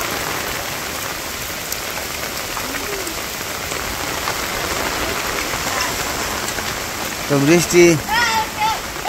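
Steady rain patters over a village path under an umbrella, a dense even hiss filling the whole stretch, while a voice speaks briefly near the end.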